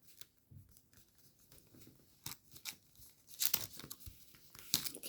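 A paper flap on an origami Spadewing fighter jet is folded over, giving soft rustles and crinkles that build into sharper, louder crackling creases toward the end, close up with no talking.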